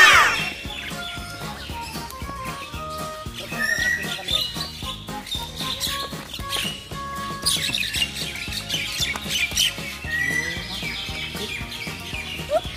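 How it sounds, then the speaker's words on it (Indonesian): A cockatoo at a mini zoo in Palembang squawks repeatedly in harsh bursts over busy background chatter and other bird calls. "Kakak tua. Kakak tua."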